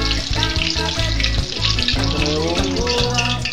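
Meatballs fry in a pan for spaghetti, giving a steady, close sizzle that runs unbroken through the whole stretch with tonal sounds layered over it.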